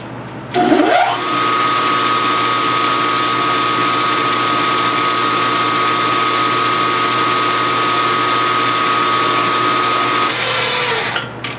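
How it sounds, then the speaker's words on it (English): A power drill with a number 27 bit whirs steadily at a constant pitch for about ten seconds after a brief start-up, then winds down, loud and close. "Number 27 drill."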